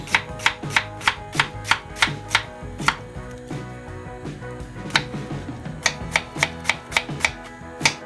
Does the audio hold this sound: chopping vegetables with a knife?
yes